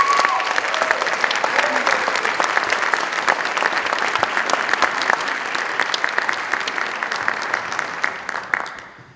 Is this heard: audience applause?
yes